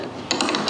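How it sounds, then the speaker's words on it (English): A wrench tightens eyelets on a fishing boat, giving a quick burst of close, sharp ratcheting clicks over a brief moment. "I use a wrench to tighten those down like so."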